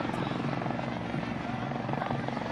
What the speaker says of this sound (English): like the helicopter that's flying